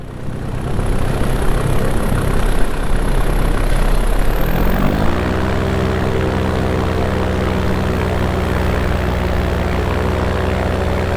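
Paramotor engine in flight, a loud roaring drone that drops to a steadier lower idling hum as the pilot throttles back to coast, with constant wind rush throughout.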